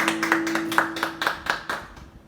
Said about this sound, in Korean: 우리 축복의 박수를 하겠습니다.